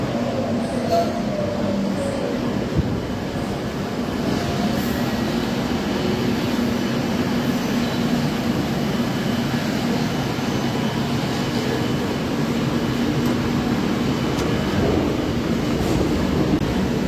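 A New Garia-bound metro train on Kolkata's underground line arrives at a station, a loud steady rumble and roar of wheels and motors filling the space throughout with faint squeals and no clear speech.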